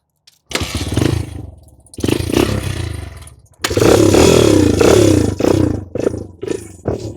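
Honda CRF dirt bikes ride on dirt trails, their engines revving up loudly and close in repeated surges, dropping briefly between throttle bursts and then climbing again into a sustained, throaty roar.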